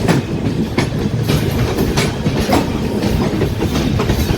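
The Paschim Express, running from Bandra Terminus to Amritsar, rolls past with a loud, steady rumble and rhythmic clickety-clack of wheels over rail joints, close by and continuous.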